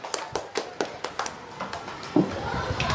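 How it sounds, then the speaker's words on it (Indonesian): A scattering of hand claps from students in a classroom, uneven and moderately close, with a murmur of voices and room noise around them. "tepuk tangan untuk temannya"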